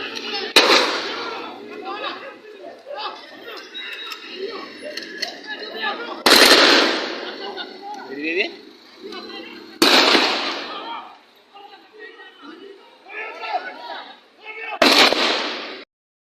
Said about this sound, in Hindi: बड़ी मुश्किल से जान तब बची जब पुलिस ने हवा में फायरिंग करी।